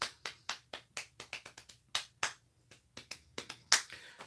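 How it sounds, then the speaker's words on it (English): A single person claps during a home stream, about a dozen sharp, close hand claps in an uneven rhythm, with brief pauses between them and one louder clap near the end, and no talking. "Everyone applaud. Everyone clap for Idmonster."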